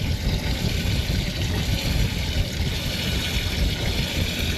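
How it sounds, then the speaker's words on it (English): Fresh water runs steadily into a marine toilet bowl on a boat, a constant close hiss and gurgle that holds unbroken throughout with no voices. "So we're filling up the bowl with fresh water."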